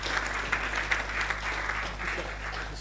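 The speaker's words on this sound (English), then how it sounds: "Please, can we keep that round of applause still warm" Steady applause from a conference audience at a leadership and business event, continuous even clapping of a large crowd heard at moderate distance with no voices over it.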